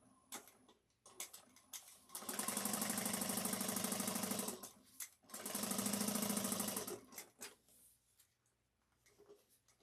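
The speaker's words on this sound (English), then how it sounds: "So now we're going to top stitch each one for the card slots at 1/8 of an inch." A sewing machine topstitches card slots on a shoulder bag at 1/8 inch, its rapid needle chatter running in two steady bursts of a few seconds each, with quieter handling sounds before, between and after.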